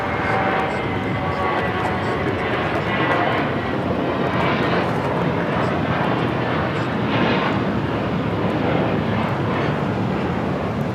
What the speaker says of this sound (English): 2656 taking off to Los Cabos on the A321.